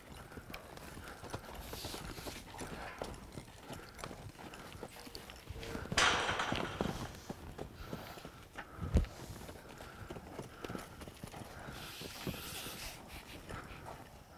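Horse hooves clop steadily on the ground, a walking rhythm that carries on throughout, with a couple of louder knocks partway through, during colt starting.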